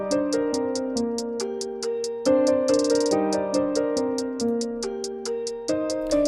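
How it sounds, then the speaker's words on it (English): A closed hi-hat in a double-time hip-hop beat ticks steadily in bright eighth notes, with quick rolled bursts and triplet runs, looping over sustained synth chords and a deep bass line. "Now the closed hat simply was just a bunch of eighth notes because we're in double time."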